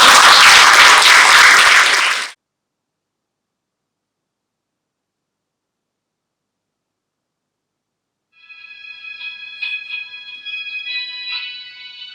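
Loud burst of audience applause at a Patanjali pyramid meditation centre event in Vadodara, dense clapping that cuts off abruptly after about two seconds, followed by silence and later a faint electronic melody.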